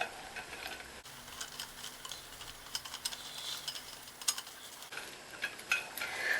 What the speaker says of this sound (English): So that's melted, so I'm now going to add the flour and then whisk all that together